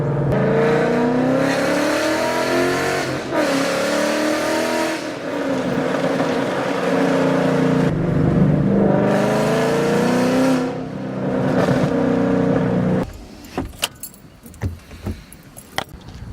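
A 2012 Ford Mustang with the 5.0 V8 revs loudly in a parking lot, its deep engine note climbing and falling through several strong pulls before cutting to quiet idle noise and scattered clicks.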